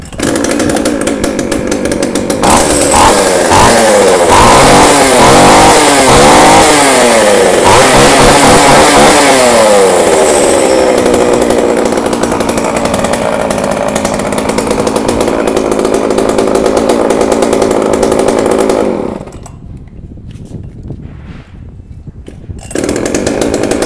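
A used Japanese K15 two-stroke chainsaw is pull-started, then roars loudly up close through several sharp revs before settling into a steady run, and cuts off near the end.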